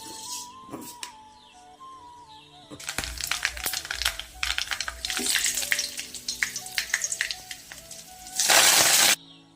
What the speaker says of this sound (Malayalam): എണ്ണ ചൂടായി ഇനി കടുക് ഇട്ട് കൊടുക്കാം.